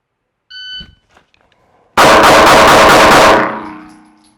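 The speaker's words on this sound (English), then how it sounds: "I'm going to run a bill drill here real fast. So that is draw and fire 6." A shot timer gives a short electronic beep, then after a pause a pistol fires six rapid shots in a fast bill drill on a shooting range, the reports blurring into one loud burst with a ringing tail.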